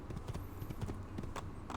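Horse hooves clip-clop steadily in the Assassin's Creed video game as a saddled horse moves along, a close, even rhythm of hoof strikes running throughout with no talk over it.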